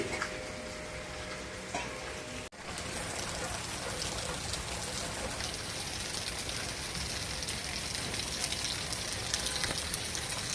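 Steady rain falls continuously on surfaces outside a home, a dense even hiss with a brief dip partway through.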